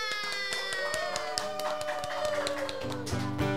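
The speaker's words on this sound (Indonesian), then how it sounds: "Beri tepuk tangan teman-teman." Scattered clapping rises from a youth and teen church fellowship gathering, mixed with steady sustained musical tones and a few hand taps throughout.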